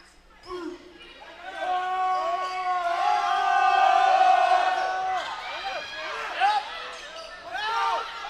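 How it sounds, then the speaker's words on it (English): Track team cheering at a college volleyball game in a gym: a loud, sustained chorus of voices and chants builds, peaks, then trails off, with a shout or two standing out near the end. "And the track team is still here cheering."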